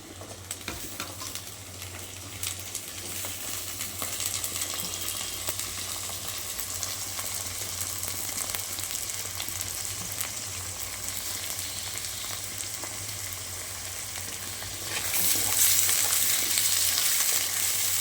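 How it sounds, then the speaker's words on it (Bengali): Potatoes fry with onions in a pan, a steady close sizzle with ongoing stirring, growing a little louder and brighter near the end, with no voices. "পেঁয়াজটা একটু ভাজা হয়েছে, এবার আমি আলুটা দিয়ে দিচ্ছি।"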